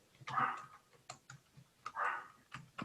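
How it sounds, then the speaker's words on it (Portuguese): A neighbour's small dog barks in short, sharp yaps, several spaced bursts at moderate distance against a quiet room, with no talking. "Cachorrinho latindo."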